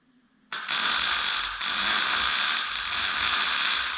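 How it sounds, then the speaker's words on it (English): A welder lays a continuous bead along a metal storage rack. A loud, steady buzzing crackle starts abruptly after a short quiet moment and runs on with one brief dip, close and unbroken, with no talk. "So now I'm just gonna go work my way around, weld it solid."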